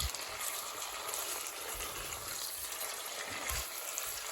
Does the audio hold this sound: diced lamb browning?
yes